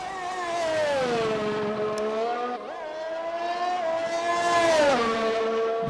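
A race car engine screams through a lap of the Austria circuit in a racing video game, its pitch sweeping up and down steadily with gear changes, loud and close throughout with no other sounds on top.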